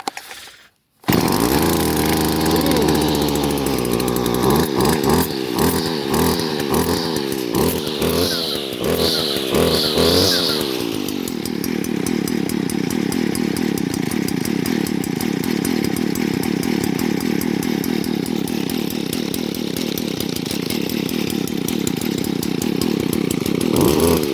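A Stihl FS70 string trimmer engine fires from a completely cold, unprimed start, then settles into a steady, loud two-stroke idle that runs continuously close by, with a brief revving burst early on.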